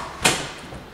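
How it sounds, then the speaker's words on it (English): A house's front door opens with a single sharp click or clunk of the latch, followed by a short fading rattle in a quiet indoor space. "And coming inside, the front door."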